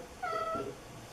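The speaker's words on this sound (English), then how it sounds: "The squeaky cat has arrived." Cat giving one short, high, squeaky meow up close, a thin rising-and-falling cry lasting under half a second against a quiet room.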